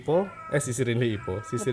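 A pet cat meows as it is combed for fleas with an M-Pets comb, giving several drawn-out, wavering cries, close and fairly loud, with a person's voice mixed in.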